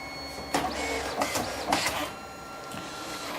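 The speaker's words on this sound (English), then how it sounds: "So now our printer is making our test print." A Mitsubishi easy photo system printer running a test print, giving a steady mechanical whir with several louder feed pulses and clicks, close and moderately quiet, no talking.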